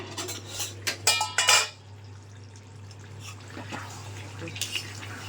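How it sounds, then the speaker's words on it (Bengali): Chicken is stirred and sautéed in a pot, with a spoon clattering and scraping against metal in a quick cluster near the start. A quieter low cooking hiss follows, and no one speaks. "এগুলো সব মিক্স করে এবার একটু কষিয়ে নিই ভালো করে"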